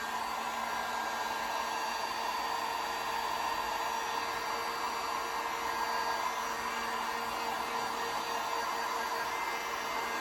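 A handheld heat tool blows a steady, even whoosh across a craft piece freshly painted with one-step paint, holding a constant airflow hiss for the whole stretch without pauses.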